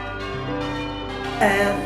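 Five church bells ring changes in a steady sequence of overlapping tones, resonant and sustained, with a brighter strike near the end.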